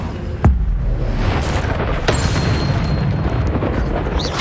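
An Incendio fire spell cast in Hogwarts Legacy erupts in sharp booming bursts, one loud blast near the start and another about two seconds later, over a constant roaring game din.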